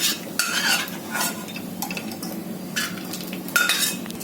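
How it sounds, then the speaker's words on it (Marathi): Vermicelli frying in ghee and oil in a pan for sweet sevaya, a close crackling sizzle with brisk stirring strokes and metallic scrapes against the pan. "शेवया ह्याच्यातच घालते फ्राय करून घेते"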